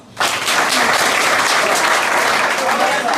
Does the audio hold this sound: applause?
yes